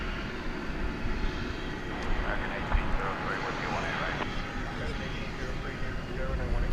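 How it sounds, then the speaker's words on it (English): Boeing 737-800 jet taxiing at DFW Airport at night, a steady broadband engine rumble and whine holding throughout, fairly close, with voices talking over it. "Pulling up in front of the triple, flight 3149 to Minneapolis St. Paul, which is a 737-800."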